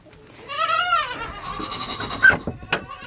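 Goats on a farm give a couple of wavering, nasal bleats close by, followed by a few light knocks and shuffles as the animals move around.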